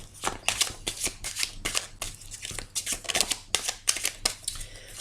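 Tarot cards being shuffled by hand, close and fairly quiet, in quick repeated riffling bursts of papery slaps with no talking.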